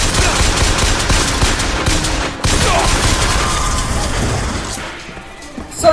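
Gunfire erupts in the BioShock Infinite video game, a dense fusillade of rapid shots and crashing impacts, loud and sustained, briefly breaking off before resuming and fading toward the end.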